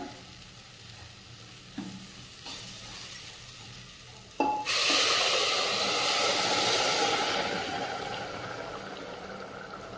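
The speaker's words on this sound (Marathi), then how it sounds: "अशा प्रकारे आता चांगली उकळी आली आहे" Rice with fresh pigeon peas simmers in water in a pot, a few light clinks at first, then a loud continuous bubbling and sizzling roar that settles slightly toward the end.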